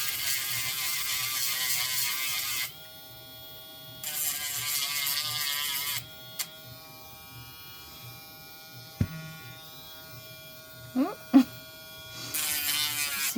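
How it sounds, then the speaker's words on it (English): A handheld Dremel rotary tool grinds UV resin and paper pieces in loud, close, high-pitched whining bursts, switching on and off, with quieter gaps that hold clicks and brief clatters of handling. "I was like, let's Dremel them."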